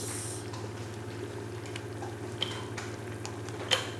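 Homemade strawberry jelly boiling in a pot, a steady low bubbling simmer with a faint hum and a couple of sharp ticks, with no talking.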